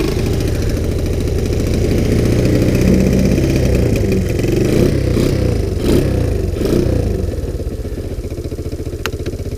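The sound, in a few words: Sunl 110cc ATV engine cold start and idling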